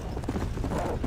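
Horse hooves clip-clop in Red Dead Redemption, a quick run of soft, fairly quiet hoofbeats on the ground over a faint background, with no one speaking.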